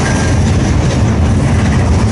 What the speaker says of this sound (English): They send the same train down.